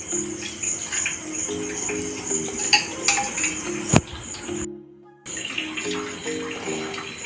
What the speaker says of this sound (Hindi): सारे सोयाबीन को मैंने अच्छी तरह धो लिया है